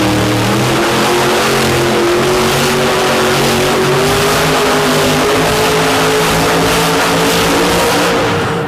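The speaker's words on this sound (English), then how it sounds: "they are laying down plenty of rubber in those turns right now" Demolition derby cars at Destruction in Madison, Iowa veteran among them, spin their tires through the turns as engines rev hard and loud, a dense continuous roar with rising and falling pitch and no talk.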